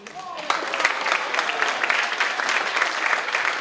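Audience applause at a high school honors night fills the room, steady dense clapping from a crowd continuing throughout after a brief quiet start.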